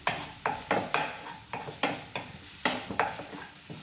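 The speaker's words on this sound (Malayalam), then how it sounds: "ഇനി നെയ്യിലേക്ക് നമുക്ക് മുറിച്ച് വെച്ച പഴം ചേർത്ത് കൊടുക്കാം കേട്ടോ." Sliced banana fries in ghee with a soft sizzle beneath quick, rhythmic scraping strokes of a spoon stirring in the pan, close up and steady.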